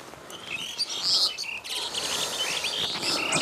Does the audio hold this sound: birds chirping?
yes